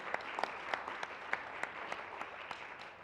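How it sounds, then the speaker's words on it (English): Steady applause from a small crowd at a board meeting, with individual claps audible in an uneven patter throughout, no talking. "Another round of applause for the DIA."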